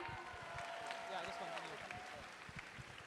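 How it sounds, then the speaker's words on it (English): An audience at a school Founder's Day celebration at an expo venue claps steadily in a dense, sustained wash, with voices and crowd chatter mixed in throughout. "Let's give them a round of applause"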